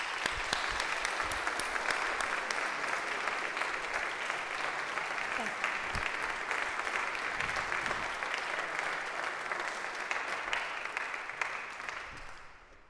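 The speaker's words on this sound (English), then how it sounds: "Give her a round of applause" A town hall audience gives sustained, dense applause that holds steady and loud for about twelve seconds before tapering off at the end.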